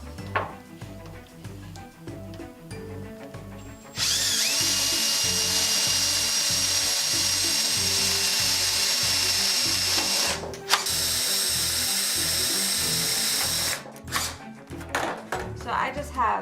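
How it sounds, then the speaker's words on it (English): A power drill whines loudly for several seconds as it drills holes in an air duct, stops briefly, then runs again, with softer handling clatter before and after. "we're going to sit there and drill those holes now"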